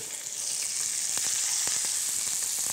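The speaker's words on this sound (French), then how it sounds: "l'huile fume, c'est parfait. Sans se brûler, bien entendu, je dépose mes morceaux" Loud, steady sizzling of meat pieces frying in smoking-hot oil, with sharp crackles and pops scattered throughout.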